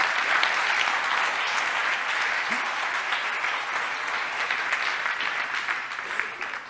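An audience applauding a volunteer at a mentalist show, a steady, fairly loud wash of clapping that fills the whole stretch and fades slightly toward the end, with no talking.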